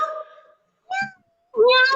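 Children's voices mimic a cat's meow three times, drawn-out and tonal, with short pauses between; the last is loudest. Ukrainian speech-development lesson.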